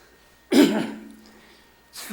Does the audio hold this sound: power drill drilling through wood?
no